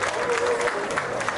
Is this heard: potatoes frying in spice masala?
no